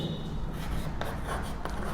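Pen or marker scratching across a board while working through a maths geometry construction, a steady soft scraping with a few sharper strokes and no talk over it.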